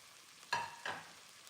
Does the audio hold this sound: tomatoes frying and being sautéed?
yes